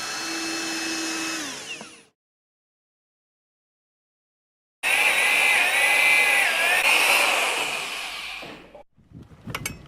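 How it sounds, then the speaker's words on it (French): A power screwdriver drives screws to secure skylight flashing among roof slates: a short whirring burst, a pause, then a longer loud whine that rises and falls in pitch, ending in a few quick clicks. "Fixez le solin à l'aide des vis fournies."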